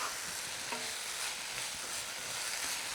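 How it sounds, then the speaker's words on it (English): Greens lightly sautéed with ginger and five spice, a steady close sizzle with faint stirring scrapes, no voices. "the light saute, you mix the warm energy of the spice into the green"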